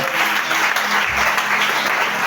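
A church congregation applauds the Lord during an evening service, a dense wash of clapping hands filling the room at steady loudness with a few voices mixed in.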